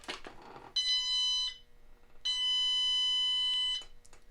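A handheld metal detector emits a continuous high electronic tone, holding steady for under a second, breaking off, then sounding again for about a second and a half, clear and close, with faint handling noise before it.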